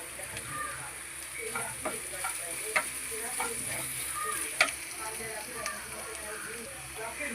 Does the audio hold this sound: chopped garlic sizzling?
yes